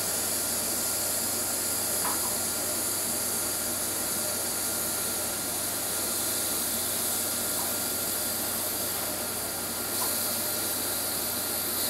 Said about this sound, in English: We'll let the steam escape very slowly.